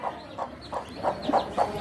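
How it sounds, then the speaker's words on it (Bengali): A farmyard hen clucks among her chicks, giving about six short, evenly spaced clucks at moderate distance with no talking. "এই যে দেখেন নিচে আমাদের হাঁস মুরগিগুলো, এই যে এগুলা ঘোরাফেরা করতেছে।"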